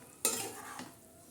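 A spoon stirs moong dal cooked with drumstick pods as it boils in a pot, one short scraping swish over a soft simmering background.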